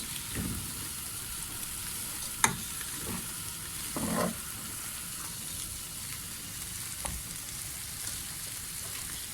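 Chickpea pilaf sizzles steadily in a pan while a utensil stirs it, with occasional sharp scrapes and clinks against the pan. The sound is close and moderately quiet, with no voices.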